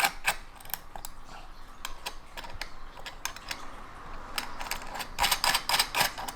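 Hex nuts being tightened to secure a 50A ANL fuse produce scattered small metallic clicks and ticks in an irregular rhythm, close but quiet, with no talking.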